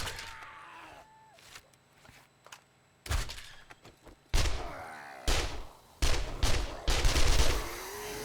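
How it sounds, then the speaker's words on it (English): Gunshots in the survival game 7 Days to Die, a series of sharp, loud separate bangs spaced irregularly over a quiet background, growing denser and heavier toward the end. "I might just have to shoot him up the butt."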